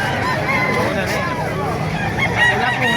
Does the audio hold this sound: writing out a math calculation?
no